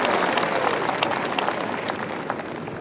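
A golf crowd at a U.S. Women's Open finish cheers and applauds in a dense, steady roar that fades slightly toward the end, heard at a distance.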